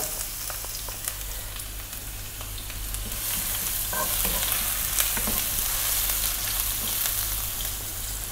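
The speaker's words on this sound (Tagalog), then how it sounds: "Nagpapainit na po ako ng mantika sa aking frying pan or wok. Unahin natin yung ating luya." Ginger sautés in hot oil in a frying pan or wok, a dense steady sizzle that grows slightly louder halfway through, with faint stirring scrapes and no voices.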